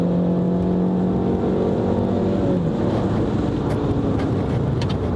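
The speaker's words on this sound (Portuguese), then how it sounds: "Vou dar uma aceleradinha aqui, a gente tá em quarta marcha. Você vai ver que ele vai subir uma marcha" A Fiat 500 automatic accelerating hard on kickdown, its engine note rising steadily while climbing through the gears, loud and continuous from inside the cabin with no talking.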